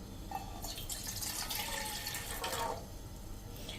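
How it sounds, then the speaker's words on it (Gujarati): Water poured from a glass into a pan on a gas stove, a steady close splashing pour lasting a few seconds before tapering off, with no talk over it. "એક પેનમાં આપણે પાણી મૂકવાનું છે, ટૂંકમાં 1 ગ્લાસ જેવું પાણી આપણે મૂકી દેશું"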